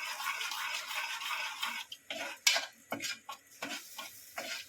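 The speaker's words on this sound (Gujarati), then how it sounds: "આપણે જ્યાં સુધી તેલ છૂટું પડે ને ત્યાં સુધી હલાવવાનું" A spicy masala is stirred through hot oil in a pan for Gujarati dal bhat, the spoon scraping and rasping in close, uneven strokes with short pauses between them.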